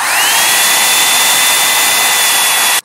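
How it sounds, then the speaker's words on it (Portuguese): A Quanta hot air brush dryer runs at close range, a loud, steady whooshing roar with a high motor whine that holds evenly for about three seconds and then cuts off abruptly. "Sua atuação quanto ao barulho é igual de um secador tradicional. É bem barulhenta."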